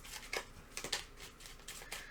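White Sage Tarot cards shuffled by hand in a quiet room, giving soft, papery riffles and slides in a few uneven bursts, faint and close.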